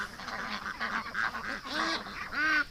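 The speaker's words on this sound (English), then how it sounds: "Come on, ducks." Ducks being called toward their pen give a string of raspy, honking quacks, several overlapping calls close by and fairly loud, with the last one strongest.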